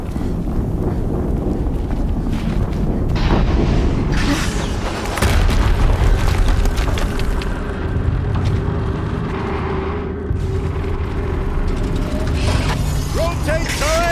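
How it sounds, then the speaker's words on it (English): An explosion in the game Horizon Zero Dawn booms loudly amid continuous rumbling action noise and mechanical clanking, with voices speaking over the din. "Another explosion."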